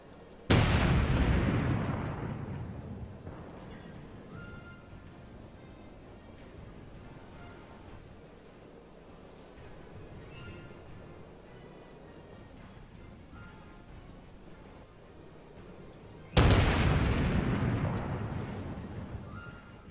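Main guns of the Japanese cruiser Chikuma in World of Warships fire in two loud, close salvos roughly fifteen seconds apart, each a heavy boom with a long rumbling decay over a low ship hum.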